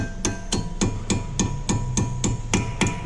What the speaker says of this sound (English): you go ahead and take a hammer